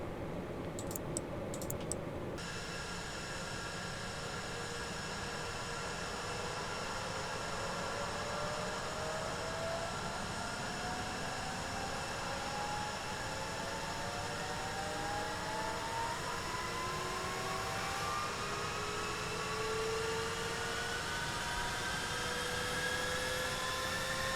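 The engines of a Northrop B-2A Spirit stealth bomber spool up during start-up in Microsoft Flight Simulator, a steady turbine whine with tones that slowly rise over a constant roar. The sound runs for the whole stretch with no voices.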